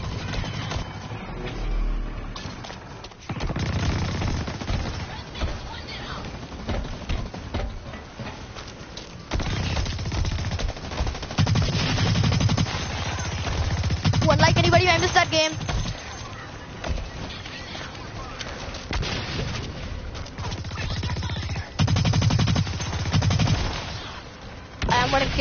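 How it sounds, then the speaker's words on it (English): Rapid bursts of assault rifle fire in the shooter game Blacklight, loud and repeated throughout amid other game sounds and a voice talking over it. "Look at that assault rifle."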